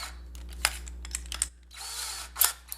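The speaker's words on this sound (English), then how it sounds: "What is going on with this drill?" A power drill drives screws to fasten small L brackets to a True Tone mount on a guitar pedalboard, with short whirring bursts, a longer run and clicking handling noises nearby.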